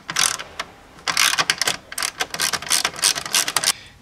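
A ratchet works a 7mm screw out of the instrument cluster panel cover on a Chevy Monte Carlo or Impala, clicking in quick, close, uneven bursts with short pauses between them and no talk.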